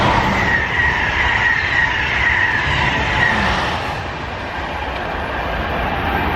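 An Amtrak train rushes through North Philadelphia station without stopping, loud and steady, its wheels and carriages roaring by close up before easing off slightly toward the end.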